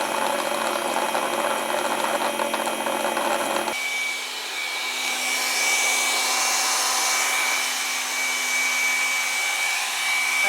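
Floor cleaner with rotating cleaning mops, a steady loud whirring motor hum that shifts to a smoother, higher-pitched drone partway through and continues unbroken.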